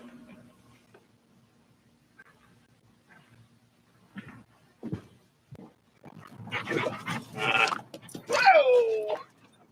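A dog barks and yelps in a few bursts that build toward the end, loud and close after a quieter stretch with faint sounds.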